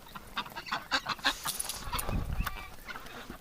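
Muscovy ducks being herded into a shed in winter give short, breathy honks and clucks, several close calls in quick irregular bursts with a rustle of movement around them.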